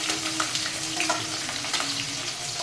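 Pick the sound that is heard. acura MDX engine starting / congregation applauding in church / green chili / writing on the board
green chili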